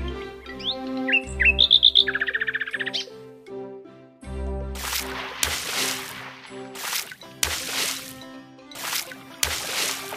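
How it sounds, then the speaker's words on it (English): Birds chirping in a short melodic run of tweets, followed by sloshing, splashy bursts and a steady tonal musical background. "Look at the birds."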